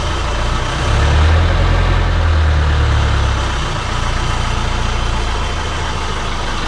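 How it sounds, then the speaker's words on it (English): A sailboat's inboard engine revving in reverse gear, a steady low rumble that swells in the first few seconds, then settles back to a smooth idle, close and continuous with no talking. "Want to rev it in reverse a little?"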